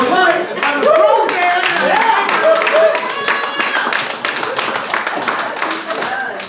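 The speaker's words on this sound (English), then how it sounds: "I'm glad you're clapping" A small comedy-show crowd at a brewery gives scattered, uneven clapping that sits close and fairly loud, gradually thinning out, with voices mixed in.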